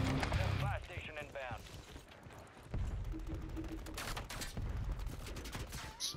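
Gunshots crack through a Call of Duty match in scattered bursts and single shots, fairly loud amid game effects, with players talking excitedly over parts of it.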